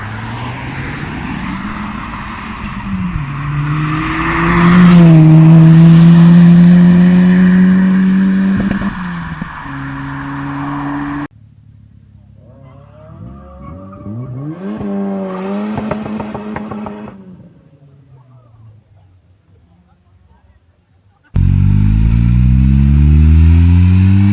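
A turbocharged 2.3 Saab engine from a 9000, fitted in a Scimitar, revs hard up and down, loud and close, with rising and falling whines and a burst of high revs at the end.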